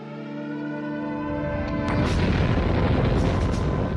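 A bomb explodes in Kriegsfront Tactics, a wartime tactics game, rising out of a sustained tonal hum into a loud, rolling, crackling blast that swells and lingers for a few seconds.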